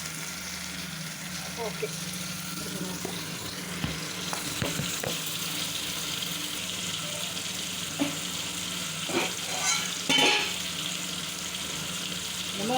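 Ingredients for a fish curry frying in a pan with a steady, close sizzle, plus occasional stirring and clinks, while someone talks briefly over it.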